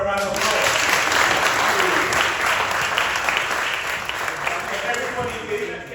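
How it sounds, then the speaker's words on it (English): A room full of people claps loudly, the applause swelling early and then slowly easing off, with voices mixed in underneath. "Can we give her a round of applause?"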